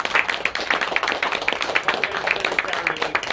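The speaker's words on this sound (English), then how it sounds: "please, one more big round of applause for that" Audience applause at a Barnes & Noble bookstore reading in Encinitas, a steady patter of many hands clapping close by, running continuously throughout.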